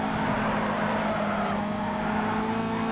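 A BMW M3 GTR racing in Need for Speed Underground 2, its engine holding a steady high drone with a whining straight-cut gear tone over it, loud and continuous with no talk.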